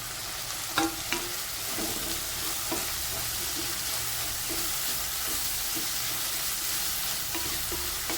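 Dried red chillies and curry leaves sizzle steadily in a hot pan for chicken uppu kari while a spoon stirs them, with a few sharper scrapes and clinks standing out near the start. No one speaks.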